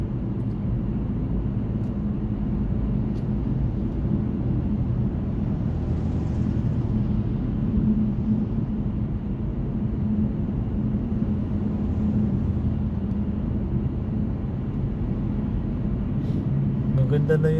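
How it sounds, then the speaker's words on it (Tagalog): A BMW engine running steadily after an oil change, a continuous low rumble with road noise heard from inside the moving car. "Maganda na yung tunog ng makina ng BM simula nung pinalitan nila yung langis."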